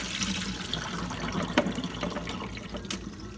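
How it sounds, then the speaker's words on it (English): Whey from fresh homemade cheese pouring and trickling through a small cheese-maker strainer, a steady close splashing liquid stream with occasional drips. "I'm just going to strain the whey protein through the little strainer that comes with your cheese maker."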